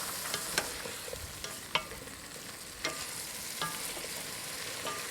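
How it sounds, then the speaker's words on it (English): Vegetables being stirred in olive oil in a saucepan, a soft steady sizzle with scattered light clicks and scrapes from the spoon against the pan, fairly quiet and close. "Now we give it a little stir."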